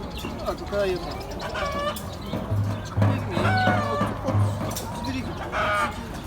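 Several chickens cluck and a rooster crows amid a busy crowd at a poultry market, with people talking nearby and a low hum underneath.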